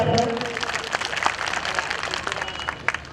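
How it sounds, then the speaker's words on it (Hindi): A crowd at a Rajbhar community political gathering honoring Maharaja Suheldev gives enthusiastic applause, a dense sustained patter of many hands clapping. "एक बार उनके नाम पर जोरदार ताली बजाइए"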